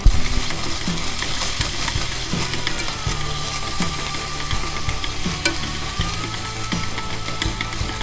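Chicken tenderloin sizzles in a pan with a steady crackle while being stirred, with occasional light utensil knocks, close and continuous, no talk.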